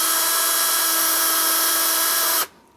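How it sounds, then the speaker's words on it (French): A power drill with a 2 mm bit drills a small pilot hole for screws, a steady high whining motor drone lasting over two seconds before cutting off abruptly into quiet. "Alors là, par contre, il n'y a pas d'arrêt, il ne faut pas percer trop profond."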